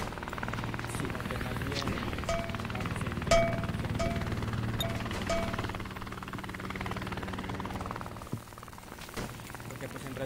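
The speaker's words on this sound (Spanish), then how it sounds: "Así pasa el helicóptero, hay que cubrir aquí." A helicopter passes in a video game shooter match: a steady rotor drone runs under ongoing talk, with a few faint game chimes and clicks.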